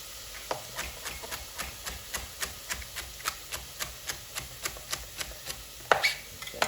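Celery being chopped with a knife on a cutting board for homemade chicken noodle soup: a steady run of about twenty crisp, evenly spaced chops, close and clear, with no talking.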